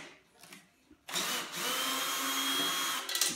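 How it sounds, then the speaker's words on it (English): A power drill driving an Allen key whirs to life after a quiet moment and runs steadily at high speed for about two seconds, then stops. "I have the right size Allen key in my drill."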